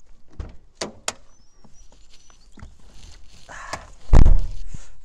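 Door of a 1992 Peugeot 205 1.8D Junior, a high-mileage diesel hatchback, with a few light clicks and taps, then one loud, close slam with a short resonant tail.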